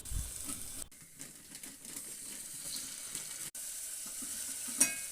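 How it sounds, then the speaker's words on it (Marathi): Chopped onion and tomato sauté in hot oil for Kolhapuri misal, giving a steady close sizzle broken by stirring scrapes and a couple of sharp clicks. "आता दुसऱ्या पातेल्यात तेल चांगलं गरम करायचं। त्यात बारीक चिरलेला कांदा आणि टोमॅटो घालून मऊ होईपर्यंत परतून घ्यायचे।"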